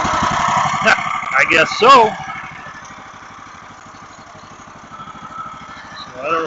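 A small engine on a backwoods hobby sawmill starts without choke and settles into a steady idle, loud and rumbling, with a voice speaking briefly over the start-up.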